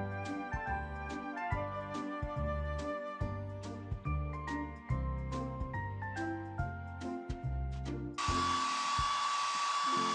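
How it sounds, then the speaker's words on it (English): A steady whooshing hair dryer in a Paw Patrol kids' video game kicks in near the end, a loud airy hiss with a faint whine that follows several seconds of plinky game music. "Tap the hair dryer to blow dry the pup's hair."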